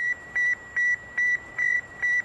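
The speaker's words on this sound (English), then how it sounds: "You are hearing the actual signals transmitted by the Earth-circling satellite" Radio signal beeps from the Sputnik satellite as it circles the Earth: six steady, evenly spaced pure-tone bleeps, each about a fifth of a second long, clear and alone over a faint hiss.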